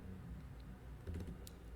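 Soft, faint clicks of typing on a computer keyboard with a non-English layout, a few scattered keystrokes rising briefly near the end over a quiet room hum.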